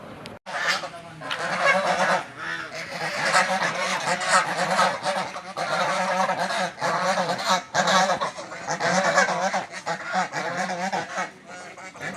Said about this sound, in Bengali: এই যে এই তিনটা হলো আমাদের হাঁস